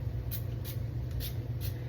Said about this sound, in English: Now we're gonna spray in the leave-in conditioner.